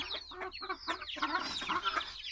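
Chickens and roosters on a farm clucking in quick, overlapping bursts, close and fairly quiet, with no talking.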